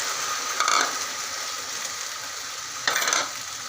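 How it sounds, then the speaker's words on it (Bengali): Sago pearls are stirred with a spoon in hot ghee in a pan for laddu. Two distinct scraping stirs sound over a constant soft sizzle, close by and with no voices. "আমি একটু নেড়ে দিব।"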